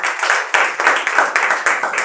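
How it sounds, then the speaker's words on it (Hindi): Loud congregation clapping at a church sermon, a dense run of rhythmic handclaps in repeated bursts filling the space. "जोरदार तालियां बजा दीजिए जिंदा खुदा के लिए।"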